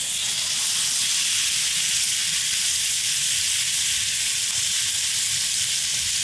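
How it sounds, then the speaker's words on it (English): A sheepshead fish fillet sears in a hot skillet, giving a loud, continuous sizzling hiss that stays steady and close throughout with no voices. "I like to clear it off so the fillet can get that nice sear."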